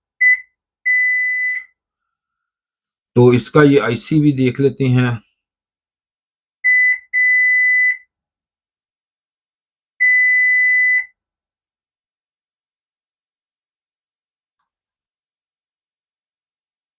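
Buzzer on a Gree DC inverter AC outdoor PCB sounding during E6 error testing: four steady electronic beeps of varying length, clear and close, with a short stretch of male speech between the first two.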